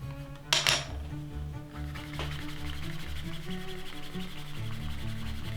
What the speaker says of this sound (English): Now lightly, just rubbing that back and forth